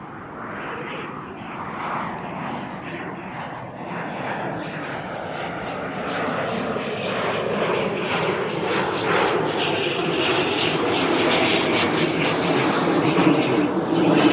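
A jet airliner roars at Amsterdam Schiphol airport, a loud, broad engine rumble that swells steadily as the aircraft draws closer, with no talking over it.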